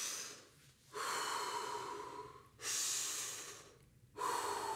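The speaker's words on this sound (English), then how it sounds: "When you take deep and rapid breaths, you are breathing in more air than baseline breathing." Deep, rapid controlled hyperventilation breaths by a freediver, three loud breath cycles close to the mic with brief pauses between them, no talking.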